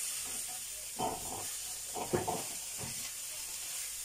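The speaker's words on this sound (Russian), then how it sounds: "продолжаем дальше жарить рыбку и доваривать борщик" Soft, steady sizzling of fish frying in a pan, with a few brief louder spits and crackles, close and fairly quiet.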